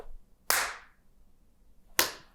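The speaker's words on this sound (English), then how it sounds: "Simple clap." Two sharp, loud hand claps about a second and a half apart, each a crisp close smack with a short decay into near silence.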